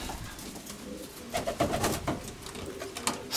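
Racing pigeons coo softly in a loft, with several low throaty calls rising midway over a quiet ambient background.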